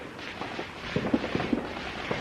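Bonfire Night fireworks go off in London, heard as faint, distant muffled bangs and crackles in an irregular scatter of several pops over a low background.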